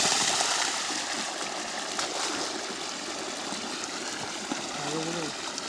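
Irrigation water flows through field channels on a farm, fed by a 7.5 horsepower pump motor: a steady, broad rushing wash that continues throughout, with a brief voice near the end.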